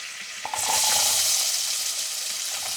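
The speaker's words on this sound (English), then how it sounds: "Then we can throw in our onions." Onions drop into melted butter in a pot at a mountain camp for potato soup, setting off a sudden loud sizzle that holds steady and close, with no voices.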